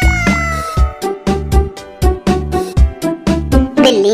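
Repeated cat meows ring out loud and clear over a steady, beat-driven backing in a Hindi children's song, coming at a regular rhythm about every half second.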